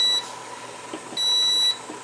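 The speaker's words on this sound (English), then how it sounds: "our timer has gone off" Kitchen timer beeping while canning celery in pints: a short electronic beep, then a longer sustained tone about a second later, clear and close over a faint hiss of steam.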